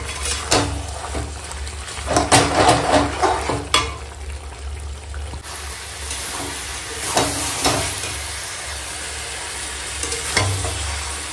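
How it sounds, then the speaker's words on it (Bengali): Mutton being dry-sautéed (kosha) in a pan without water, a soft continuous sizzle broken by scraping stirs and occasional clinks of a utensil against the pan, close and fairly quiet. "খাসি মাংস কষাবো দিয়ে, তবেই তো রান্নাটা ভালো হবে বলো।"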